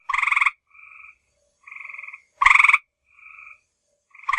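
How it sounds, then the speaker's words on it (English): Gray tree frogs call in short musical trills. Loud close bursts alternate with softer, more distant answering trills, leaving clean silences between the calls. "gray tree frogs,"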